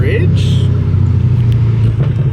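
A Ferrari on a Miami street rumbles past with a steady low engine drone, loud and close, while someone talks over it.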